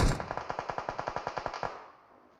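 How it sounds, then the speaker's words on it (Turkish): A rapid burst of about fifteen automatic gunshots in quick even rhythm, ending with a fading echo tail; game-style weapon fire, no talking. "Silah sesi geliyor."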